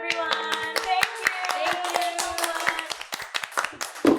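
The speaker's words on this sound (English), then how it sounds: "Clap for them, everyone." A small group of people clapping unevenly in a music and theatre podcast setting, sharp separate claps under sustained voice-like tones, fading toward the end before a louder burst.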